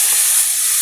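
A loud, steady hiss and sizzle rises as water hits a hot pan of fish curry with pomfret, eggplant and potato, filling the moment with bright steam noise and no talk.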